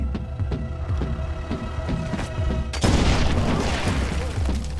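A chain of mine explosions: a series of deep booms rolls in rapid succession, then a larger blast erupts into a sustained roar of rumbling debris.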